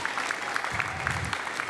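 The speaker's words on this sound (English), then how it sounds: "Let's give everyone a round of applause again for all of their hard work." Applause from an audience at a children's science event where kids built coin sorting machines; a steady, moderately quiet patter of many hands clapping at once, without talk over it.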